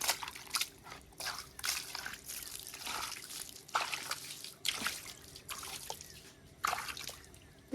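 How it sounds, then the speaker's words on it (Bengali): Water poured onto a potted tulsi (holy basil) plant splashes and trickles close by in uneven bursts, with drips between pours and faint voices in the background. "তুলসী গাছে তো ধোয়ানো হয়ে গেল"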